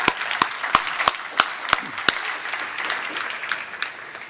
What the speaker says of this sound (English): I give these folks a round of applause